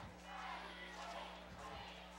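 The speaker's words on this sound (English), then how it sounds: "Huge, huge crowd here." A huge high school football crowd at a Pikeville versus Belfry game roars and cheers from a distance in a steady, faint wash of voices.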